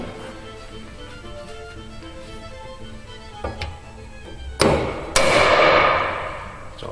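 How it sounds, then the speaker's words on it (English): A hammer strikes a mandrel to dimple a Piper aircraft door panel, with a few sharp metallic blows over a quiet background, the last two loud and ringing. "I'm just going to strike the top of this with a hammer."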